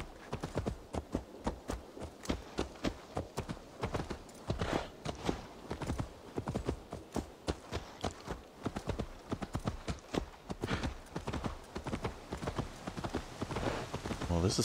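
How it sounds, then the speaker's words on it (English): Horse hooves clip-clop steadily and close in Assassin's Creed Valhalla, a brisk, even walking rhythm that runs throughout, with faint voices in the background. "Do I have a horse? Well, I do."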